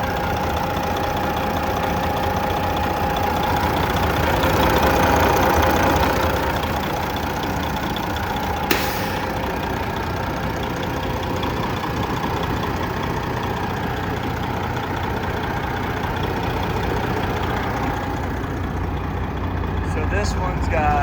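A Peterbilt 389 glider truck with a 12.7-liter Detroit diesel and 10-speed idles steadily nearby, a continuous low rumble running throughout with someone talking over it.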